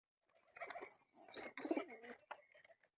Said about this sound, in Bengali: তো আমাদের পায়রাগুলোকে এবার আমাদের ঘরের ভেতরে ঢোকাতে হবে